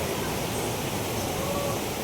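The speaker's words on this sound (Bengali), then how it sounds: "জলের ফ্লো একদম অসাধারণ" Water pours at a waterfall in Keonjhar as a dense, constant rushing roar, loud and close, with no break across the short stretch.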